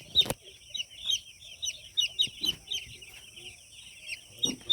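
A crowd of newly delivered poultry chicks on a farm peep nonstop in high, thin chirps close by, with a few faint knocks and rustles underneath.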